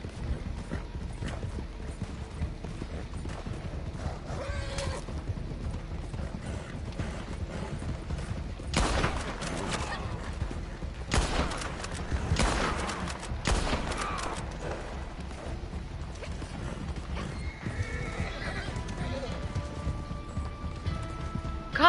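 In Red Dead Redemption 2, a horse gallops with a steady rhythmic clip-clop of hooves, mixed with scattered game gunfire and mechanical sounds, at a moderate level.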